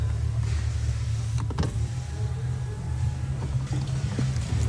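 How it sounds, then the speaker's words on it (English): Toyota Camry power window motor runs steadily for several seconds, a continuous low electric whir with faint clicks and rattles from inside the car door. "Make sure the window works."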